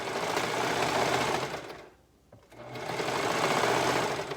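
A sewing machine runs steadily while stitching stretched binding onto the edge of a cardigan, a close, continuous motor hum that stops briefly midway and then resumes.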